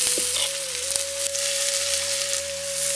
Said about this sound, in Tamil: இப்போ துண்டு துண்டாக நறுக்கி வச்சிருக்க கோவக்காயை சேர்த்துக்கலாம்.